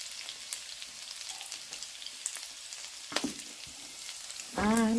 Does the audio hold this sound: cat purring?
no